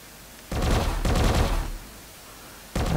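Bursts of rapid video-game turret gunfire come in loud fusillades, one long volley followed by a pause and then another burst starting at the end.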